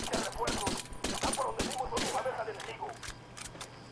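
Pistol shots in Ghost Recon Wildlands combat crack in a quick, uneven burst of close, sharp reports, with a voice talking over the firing.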